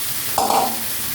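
Small tomatoes added to a pan of ground coconut, poppy seed and mustard paste, with a steady sizzle and one brief louder scrape or hiss in the middle, close and without speech.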